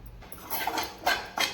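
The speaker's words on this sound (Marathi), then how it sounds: "आता यामध्ये खोबरे भाजून घेऊ" Dry grated coconut roasting in a pan, stirred with a spatula in three quick scraping, rustling strokes over a quiet background.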